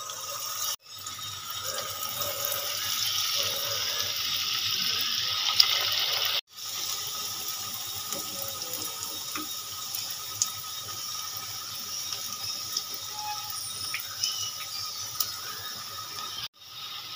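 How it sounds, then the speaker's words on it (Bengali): Semolina and yogurt fritters fry in hot oil, a quiet, continuous sizzling hiss broken by a few soft clicks and taps, with no one talking. "তেলটা গরম হয়ে গেছে। একে একে বড়াগুলো দিয়ে দেব।"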